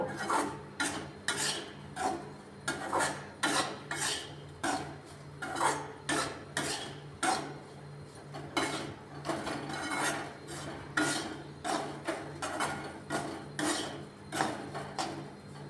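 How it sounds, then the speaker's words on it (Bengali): A spatula scrapes and stirs thick besan jhunka in a metal pan, a steady run of rhythmic scraping strokes about twice a second, close and clear, with a faint background hum and no talking. "এরপরে আমি আবার নাড়তে থাকবো এই যে সেরকম করে নাড়ব"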